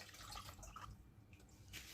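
Long-grain rice is rinsed in water, with faint splashing and dripping close by. It comes in small uneven bursts over a quiet background.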